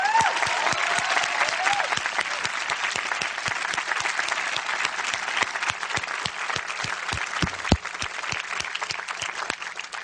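Graduates and guests at a Swarthmore College commencement applaud in a dense, sustained roar of clapping, with some rhythmic, distinct claps standing out nearby throughout and a few faint voices mixed in.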